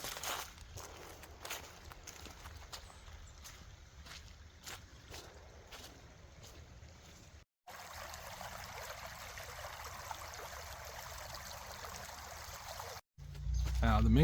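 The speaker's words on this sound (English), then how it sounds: "There's the creek. That must be a little tributary." A small tributary creek near the Minguannan Indian Town site trickles softly and steadily, with footsteps crunching nearby in the first half before the flow continues alone, fairly faint and close.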